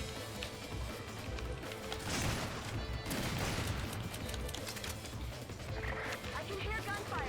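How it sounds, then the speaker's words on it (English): Gunfire and crashing impacts from the video game Resident Evil 5, Mercenaries mode on the Public Assembly stage, rattling continuously with louder bursts mixed into a busy game soundscape. "I can hear gunfire"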